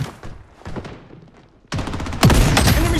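Gunfire in the shooter Blood Strike: a few faint distant shots, then a sudden loud close burst of automatic fire that keeps hammering to the end.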